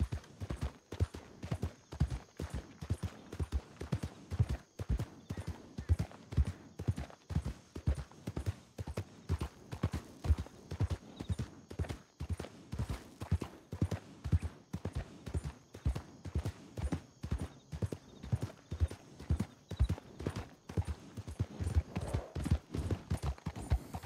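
Horse hooves clip-clop at a steady trot on a trail in Red Dead Redemption II, a continuous, evenly paced run of close, distinct hoofbeats throughout with no talking.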